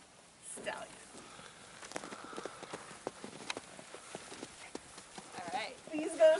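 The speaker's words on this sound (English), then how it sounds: "The white stallion." A white stallion's hooves clip-clop at a steady walking pace on a snowy skijoring course in Glen Arm, moderately close, with people talking over the noise of the outdoor event.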